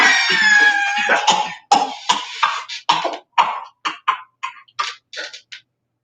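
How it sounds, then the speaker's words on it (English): Two actors in a staged reading cough and gag after downing full glasses of a drink, starting with a loud strained burst and then trailing into a series of short separate coughs that slowly ease off. "and immediately start coughing and gagging."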